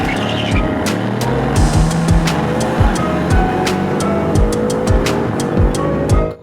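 A BMW M5 F90 launches hard from a green light, its engine roaring through repeated rising gear pulls while tires squeal. The sound is loud and close and runs continuously, with no talking.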